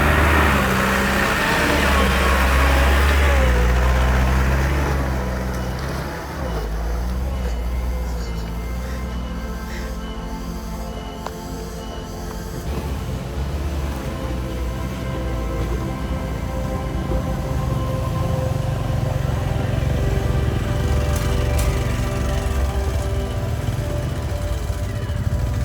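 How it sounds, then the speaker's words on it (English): A vehicle's engine labours as it climbs a steep, slippery road of bare, uneven stone in Gunung Jampang, Indonesia. A heavy low rumble is loud at first, then eases into a sustained strained drone with rattling. "The vehicle struggles to push forward, its wheels fighting for grip on the slippery surface."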